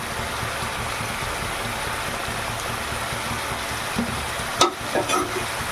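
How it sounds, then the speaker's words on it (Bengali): A mustard-based spice paste for a bata fish curry sautés quietly in a pan, a soft steady sizzle broken near the end by a couple of brief clinks and scrapes from stirring. "মশলাটাকে আগে ভালো করে কষিয়ে নেব"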